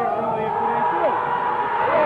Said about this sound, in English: The crowd is roaring, erupting.